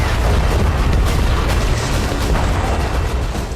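A barrel bomb explosion in Donetsk: a continuous, loud, broadband rumble of blast and debris that fills the whole stretch without a clear single onset and with no voices.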